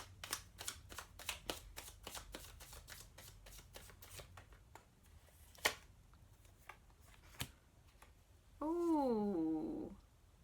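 A deck of conspiracy cards is shuffled up close, giving a rapid run of crisp riffling flicks that thins into a few slower snaps. A short purring, warbling sound follows near the end.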